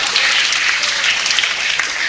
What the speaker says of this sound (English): you need to clap for that